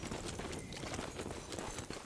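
Horse hooves clip-clop steadily at a trot in the video game Evil West, a continuous rhythmic clatter over a dense noisy backdrop.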